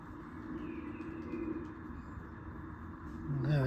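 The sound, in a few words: bird calling near a polytunnel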